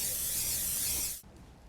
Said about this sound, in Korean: 이렇게 스프레이를 뿌려 미끄러움을 방지하는 스프레이 체인도 있는데요